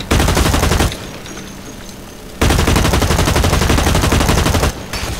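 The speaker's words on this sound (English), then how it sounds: "Oh, that shotgun is scary." Shotgun fire from the video game Blacklight Retribution pounds out in loud, dense volleys: a sustained burst, a short lull, then another long stretch of rapid shots, with no voices.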